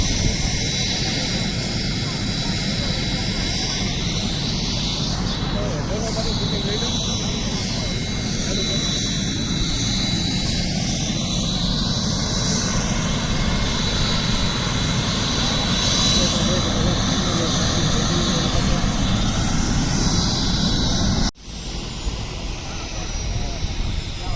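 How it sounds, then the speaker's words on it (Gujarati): Loud, steady helicopter rotor and engine roar close by as it lands, with sweeping tonal shifts as it settles, ending abruptly in a quieter hum as the rotor winds down. "તો મિત્રો હેલિકોપ્ટર લેન્ડ થઈ ગયું"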